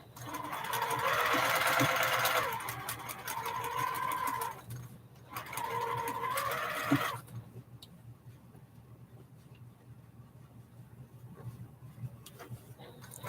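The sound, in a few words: sewing machine stitching quilt fabric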